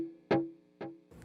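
Guitar through an Axe-Fx II mono tape delay at default settings: a single plucked note followed by a couple of softer repeats, each echo fainter as it fades away.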